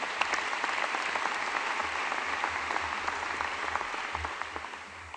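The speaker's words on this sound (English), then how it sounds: "Give that young man another great round of applause." A large audience claps for Eric at the installation ceremony of a university president at YSU, a steady round of applause heard from a distance, with no talk over it.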